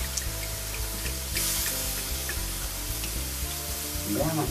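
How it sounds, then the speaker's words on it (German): Red wine poured into a hot pot of pork snouts, giving a strong sizzle and bubbling close up, with a steady low hum underneath. "Jetzt gießen wir alles mit ein bisschen Rotwein an."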